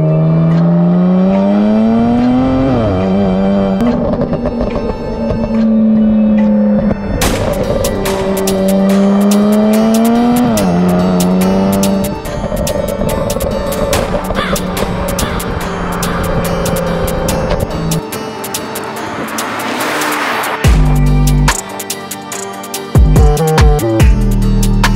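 A modified BMW 335i with the N54 engine and stage 2+ tune revs hard, engine pitch climbing and dropping repeatedly in loud close bursts with crackles and pops, then settling toward a rough idle.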